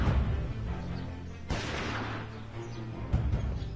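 Two sharp gunshots crack out at a distance, spaced about a second and a half apart, over a low, quiet background hum.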